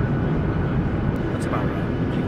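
Steady, loud engine and cabin roar inside an airplane as it comes in to land, a continuous drone with a passenger talking over it.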